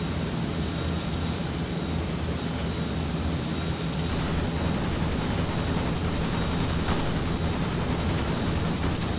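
A B-17 bomber's top turret machine gun fires in a flight combat game, its continuous rattling bursts loud over a steady droning aircraft engine hum, the firing growing denser in the second half.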